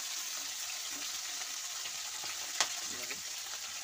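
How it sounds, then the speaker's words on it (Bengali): Tilapia fish fry in hot oil, a steady, fairly quiet sizzle with a single sharp clink partway through and faint scraping after, heard close with no voices. "সেগুলো তেলাপিয়া মাছ, আর সেগুলোকে ভাজা চলছে"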